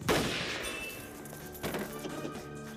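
In the 1994 film Felony, a sniper's rifle shot cracks loudly at the start and then reverberates, followed by a second thump and faint clinks.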